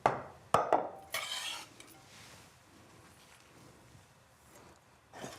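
Thyme being chopped with a knife on a board, a few sharp close knocks at the start followed by quieter scraping and a final soft tap.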